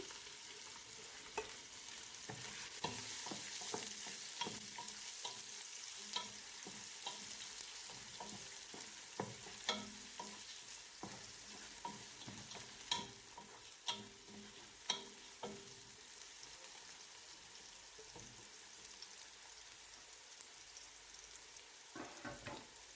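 A cup of onions sizzles in a pan for chicken curry, a faint continuous frying hiss broken by irregular scrapes and taps of a spoon stirring against the pan.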